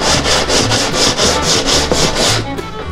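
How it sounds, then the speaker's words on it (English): Soft cedar wood paddle rubbed back and forth on 150 grit sandpaper laid flat, about ten rhythmic, close, loud scraping strokes, with no voices. "This cedar sands so fast."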